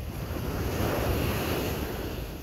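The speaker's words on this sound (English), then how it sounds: "Listen to that beautiful ocean." Ocean surf washes onto a beach at night in a continuous, fairly loud roar of breaking waves mixed with wind rumble against the microphone, with no voices present.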